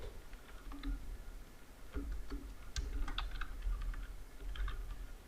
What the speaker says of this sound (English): I'll type here